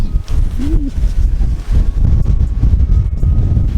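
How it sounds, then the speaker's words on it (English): Strong wind roars and buffets the microphone in heavy, continuous gusts at close range at a park-up spot in Scotland, with a short faint tone briefly rising through it. "Oh, this is going to get very windy."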